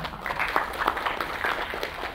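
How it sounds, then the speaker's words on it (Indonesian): An audience at a student event claps for the speaker, a steady wash of applause filling the room from start to finish. "Tepuk tangan dulu dong buat pembicara kita."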